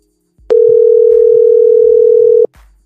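A single long telephone tone sounds while calling a friend, a steady loud beep lasting about two seconds with faint clicks before and after.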